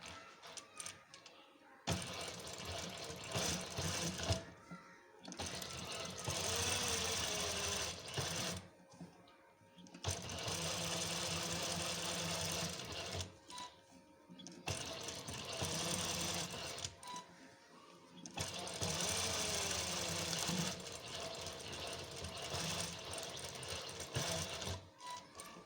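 A sewing machine stitches a double seam on a fabric face mask in a tailoring class, running in several steady whirring bursts of a few seconds each, separated by brief pauses, close and clear with no talking.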